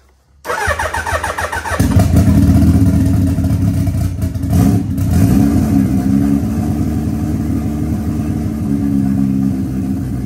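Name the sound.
Suzuki Hayabusa turbo motorcycle engine starting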